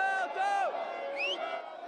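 Football fans in a Paris fan zone celebrate France's World Cup win, a dense roaring crowd of cheers and whoops with a rising shout, loud and close, with a voice over it.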